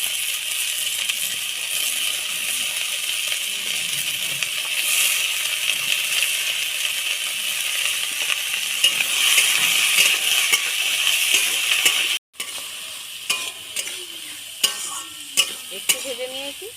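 Potato, cauliflower and carrot fry in a pan for a Bangladeshi vegetable roll filling, with a loud, steady sizzle that later gives way to quieter stirring and light clinks of a utensil against the pan.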